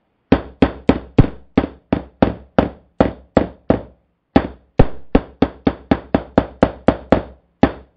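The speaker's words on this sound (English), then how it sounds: "I'm just going to use a hammer to knock it right down." Sharp, heavy hammer blows knock a part down into a wooden table in a steady rapid series, over twenty hits with a brief pause midway, close and loud.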